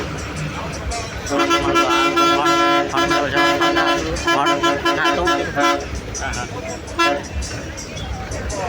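A loud, sustained vehicle horn blares for several seconds, then a shorter honk follows, over road and engine noise with voices, heard aboard a bus on the road from Pondicherry to Villupuram.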